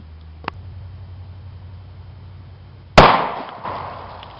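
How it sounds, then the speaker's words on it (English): A .40 caliber pistol fires a 165 grain FTX round through four layers of denim from 15 feet, a single sharp loud report followed by a brief decaying echo and a smaller impact thump. "We'll be shooting a distance of 15 feet through 4 layers of denim"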